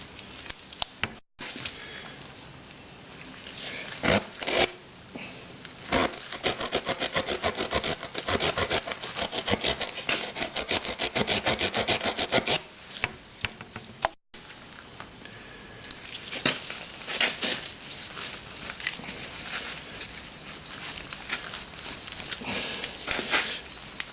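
Sustained scraping and rasping as a tool works the puncture hole in a flat tyre, widening it with continuous gritty strokes, close and fairly loud, with two brief pauses.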